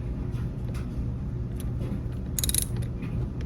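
A bolt is loosened on a DINSHARE portable chainsaw, close up: a run of rapid ratcheting clicks and grinding mechanical rattles, with a brighter metallic burst near the end.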